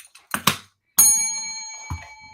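A single bright bell ding rings out clearly and sustains for about a second before fading, preceded by a couple of short thumps, with no talk over it.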